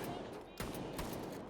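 Shotgun blasts in the VR shooter H3VR, fired against SOSIG enemies: a few quick, muffled bursts over about a second and a half, low in level and partly masked by background game noise.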